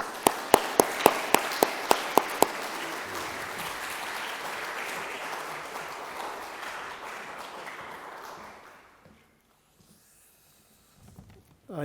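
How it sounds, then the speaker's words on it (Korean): Church congregation applauding to welcome the pastor at an anniversary service, a steady roomful of clapping with a few sharp claps at the start, fading out after about eight seconds. "우리 큰 박수로 환영하겠습니다"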